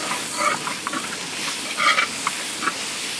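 Masala being stirred in hot oil in a cooking pan for a Kerala-style oyster and tapioca dish, a steady low sizzle with a few scraping stirs of the spoon up close.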